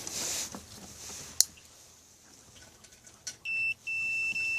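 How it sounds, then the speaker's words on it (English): Short electronic beeps from a multimeter continuity test on Mercedes brake light wiring, a quick blip followed by a steady tone that sounds twice in quick succession, close and clear against a quiet room. "when it beeps like that, that means there's a connection all the way through"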